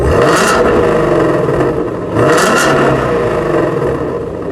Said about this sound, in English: let's hear this rev here. Again, this is a regular Regular. standard mode